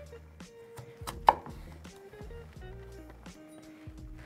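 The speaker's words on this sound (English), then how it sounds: "line up those sticks and make about 1-inch sized cubes" A knife chops butternut squash into roughly 1-inch cubes, giving a steady run of close, crisp thuds with one louder sharp knock early on and no talking.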